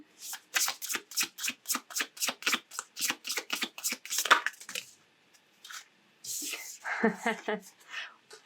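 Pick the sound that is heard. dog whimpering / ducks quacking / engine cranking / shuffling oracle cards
shuffling oracle cards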